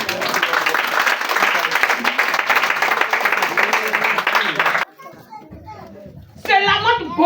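Church congregation acclaiming the Lord with cheering voices and dense applause for several seconds, then dropping to quieter scattered voices before a single voice rises again.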